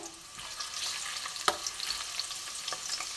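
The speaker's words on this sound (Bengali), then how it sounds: "এবার আমি একটু রসুন থেতো দিয়ে দিচ্ছি, 1 চামচ মতন।" Crushed garlic frying in hot oil gives a quiet, steady crackle with a sharper pop midway, heard close up and alone.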